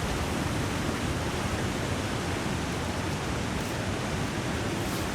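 Steady rushing roar of a waterfall in a survival video game, loud and continuous throughout with no breaks or other clear sounds.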